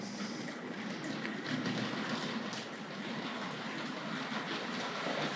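A Hornby Dublo 2235 West Country Class model locomotive pulling green coaches runs steadily along its track, a continuous rolling rumble with faint clicks, constant in level and fairly close.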